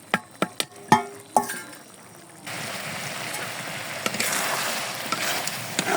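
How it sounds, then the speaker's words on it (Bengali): Half a cup of onion goes into a hot frying pan for a jackfruit-seed bhuna: a few sharp clinks and knocks of pan and utensil, then a broad, steady sizzle that swells and holds at close range. "এখন আমি পেঁয়াজ দিয়ে দেব হাফ কাপ।"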